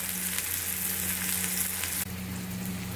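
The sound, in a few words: onion and tomato sizzling in a pan on low heat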